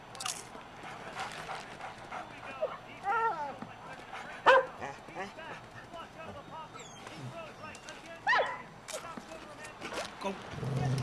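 Puppy in Grenada giving several short yips and barks with whimpers in between, spread irregularly across a stretch of quieter background, with voices talking at times.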